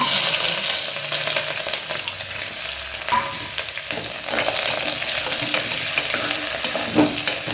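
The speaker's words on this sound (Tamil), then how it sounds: "சின்ன வெங்காயம் கட் பண்ணி வச்சுருக்கோம், பச்சை மிளகாய், கருவேப்பிலை எல்லாம் போட்டு வணக்கிடலாங்க" Shallots, green chillies and curry leaves sizzling in homemade ghee, a loud continuous close-up crackle and hiss of frying with occasional stirring scrapes, no talking.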